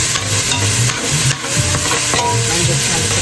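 Ground meat for dirty rice browns in a hot pan with a continuous loud sizzle and hiss, while a spoon scrapes and stirs in irregular strokes across the bottom.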